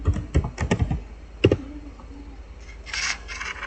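Commands typed on a computer keyboard while configuring a Cisco switch, heard as a short cluster of close, crisp keystrokes followed by faint clatter and a soft rubbing sound.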